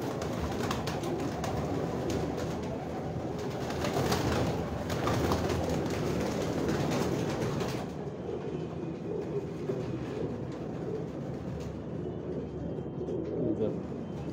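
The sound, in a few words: pigeons cooing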